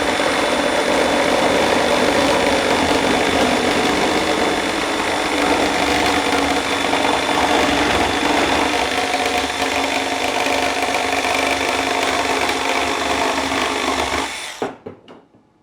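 Flex and Dewalt cordless power saws cutting side by side with the same blade, making a loud sustained grinding whir that runs for about fourteen seconds before both motors wind down.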